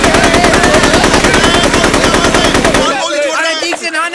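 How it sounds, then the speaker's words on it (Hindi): Rapid, loud automatic gunfire from a Hindi-dubbed South Indian action movie, a dense machine-gun burst that runs nearly three seconds and cuts off abruptly into softer, scattered sound. "गोलियां पे गोलियां चलाया जा रहा है"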